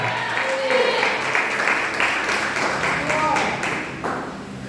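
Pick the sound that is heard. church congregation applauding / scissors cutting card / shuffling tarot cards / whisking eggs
church congregation applauding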